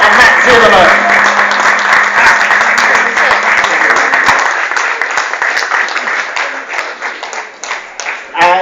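Audience applause at a sci-fi convention panel, a loud burst of clapping from a seated crowd that holds strong for several seconds, then thins into scattered claps and fades, with some speech mixed in.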